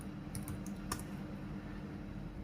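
Computer keyboard keys clack in a quick burst of typing while code is entered, close and fairly quiet, with a few sharp taps standing out over a low background hum.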